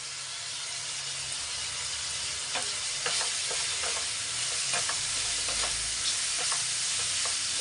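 Onions with turmeric fry in a pan with a steady, loud sizzle, while scraping stir strokes cluster toward the middle and end, close and without speech.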